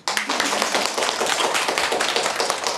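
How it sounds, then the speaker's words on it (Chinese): An audience at a talk on keeping a happy marriage bursts into loud, close applause, with dense clapping starting abruptly and holding strong for a few seconds. "喜欢就有掌声。"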